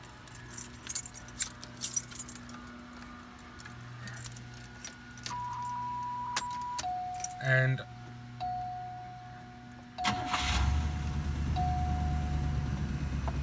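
Keys jangle in the ignition of a 1986 Cadillac Fleetwood Brougham, a chime bell dings, then the engine cranks and catches into a rumbling idle, close and fairly quiet, with a brief spoken word.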